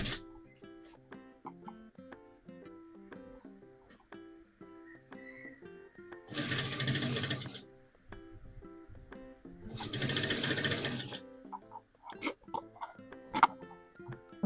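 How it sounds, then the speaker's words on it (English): A sewing machine stitching a blouse runs in two loud sustained bursts of a second or more each, separated by quieter handling noise and background music. "So you keep on sewing with 1/2 inch."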